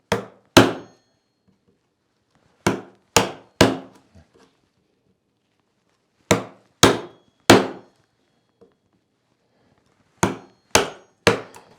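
Mallet blows drive a chisel into wood during traditional Korean lattice-window joinery, landing in spaced clusters of two or three sharp, ringing knocks with quiet gaps between groups; no one speaks.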